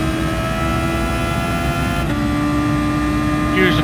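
A race car at full throttle at Spa in a racing game, its engine holding a loud, steady high-pitched drone with a gear change partway through.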